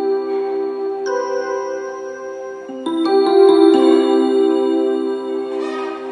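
Korg EK-50 keyboard on its digibell voice, tone 73, playing bright chiming bell notes that ring and sustain, several new notes entering one after another, clear and close with no speech.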